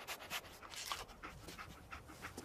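A dog pants in quick, rhythmic breaths in the Fallout 4 video game, soft and close with no talking over it.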